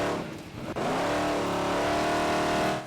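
Off-road trucks race at Mickey Thompson's Tough Truck Challenge on an S-shaped track at Indy, one engine revving hard and climbing in pitch, loud and close, sustained with a brief dip before surging again.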